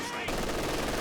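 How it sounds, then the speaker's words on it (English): Machine gun fire from the Company of Heroes 2 real-time strategy game, with a dense, continuous burst of rapid automatic shots that begins abruptly after a brief quieter moment and holds loud and steady. "And comes machine gun."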